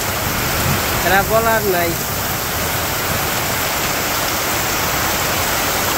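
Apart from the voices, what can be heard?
heavy rain in a Bangladeshi village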